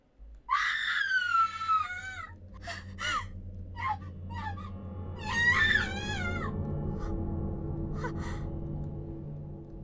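A girl in the horror video game Corpse Party: Book of Shadows lets out several sharp, high screams and gasps, loud and close, separated by short breaths and sighs over a low dark ambient drone.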